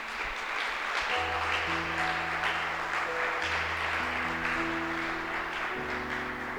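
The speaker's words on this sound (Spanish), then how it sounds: "¿Le puede dar un aplauso a Jesús por eso?" A church congregation applauds Jesus with steady, dense clapping throughout, while sustained organ or keyboard chords play underneath.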